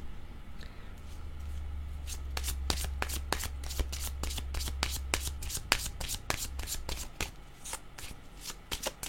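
Tarot cards are shuffled by hand in a quick, steady riffle of crisp papery slaps that repeat close up over a low background hum, with no voice over the shuffling.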